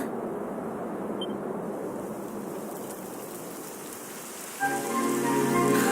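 Steady, close rainfall in the video game Dragon Quest XI S, pattering on a surface, a soft continuous hiss; near the end a tonal musical drone swells in beneath it.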